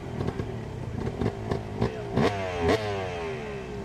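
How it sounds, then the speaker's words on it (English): A two-stroke motorcycle engine at a Harley-Davidson hill climb revs in several sharp bursts, pitch climbing and falling with each twist of the throttle, loud and close over a steady idle. "Hear the bike revving up."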